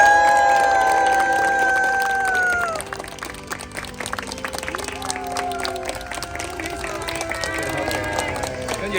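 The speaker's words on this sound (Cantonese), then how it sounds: "歡呼聲！" Wedding guests at an outdoor Hong Kong beach wedding cheer, scream and clap together in a lively crowd, with high excited voices shouting over the noise.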